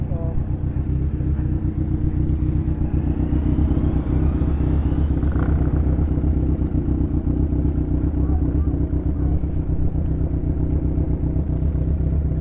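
A Kawasaki Ninja big bike runs with a steady, loud low rumble that stays close and continuous throughout, with faint voices underneath.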